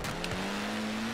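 A racing car in Forza Horizon 4 on a racetrack, with a loud engine drone holding a steady pitch and a brief whoosh as it passes close.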